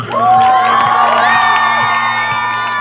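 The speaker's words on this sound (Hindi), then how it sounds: "एक बार जोरदार तालियां।" A crowd at a Republic Day celebration cheering and shouting, with loud sustained voices and whoops over a steady hum, loud and continuous throughout.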